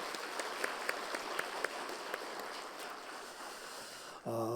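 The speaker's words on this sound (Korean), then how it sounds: "이분들도 애쓰고 수고했는데 우리 박수 한번 쳐 주십시다." A Sunday church congregation gives applause for retiring members, a soft, diffuse patter of distant clapping with a few sharper claps early on, ending in a brief low tonal sound.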